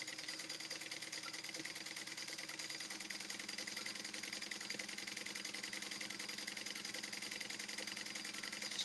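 A sewing machine stitches a tote bag handle with a fast, steady mechanical whir and rapid needle ticking, continuous and close at moderate volume.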